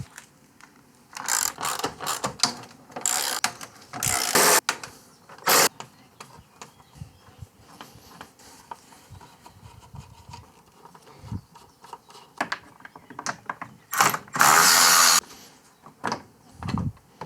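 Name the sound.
ratchet wrench turning while removing car condenser parts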